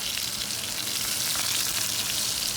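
Ribeye steak sears in a cast iron pan with melting butter and oil, giving a steady, loud, dense sizzle that holds evenly throughout.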